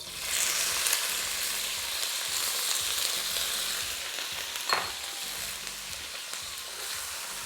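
Frozen mixed vegetables fry in a hot pan for chicken fried rice, a steady loud sizzle with occasional stirring scrapes and clatter, no talking.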